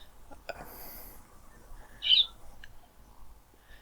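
One clear bird call rises sharply midway through, moderately close, over a quiet background with a faint low hum and a few soft clicks, and no talking.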